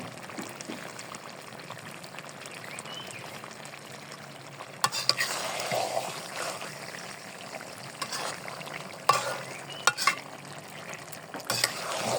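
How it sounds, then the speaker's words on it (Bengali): Raw mango pickle being stirred in a pan: a soft continuous sizzle with intermittent scraping and clacking strokes of a spoon, growing busier and louder toward the end. "2 মিনিট মতো নাড়বো"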